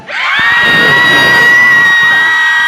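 A loud crowd screams and cheers at a stadium, rising quickly into a sustained, high-pitched roar of shrieking voices.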